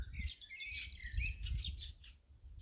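Small birds in a backyard chirp in quick, high, bright bursts, several overlapping calls over a faint low rumble, fairly quiet and close by.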